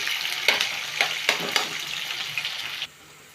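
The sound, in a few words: onions frying in oil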